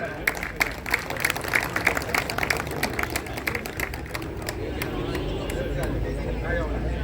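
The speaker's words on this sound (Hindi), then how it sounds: "जोरदार तालियों से स्वागत" A crowd at a statue unveiling for martyr Major Durga Malla claps in welcome. Sharp, scattered hand claps ring out for several seconds over a murmur of voices, then fade into steady background hubbub.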